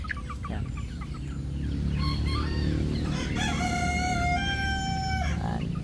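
Native backyard chickens cluck and murmur nearby as a rooster crows a long, clear call, loud and close, over a steady low background hum, with no talk.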